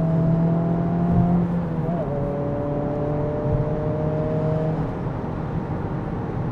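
A Honda Civic Type R drives at moderate level with steady engine whir and a couple of gear-change shifts in pitch, continuous over several seconds.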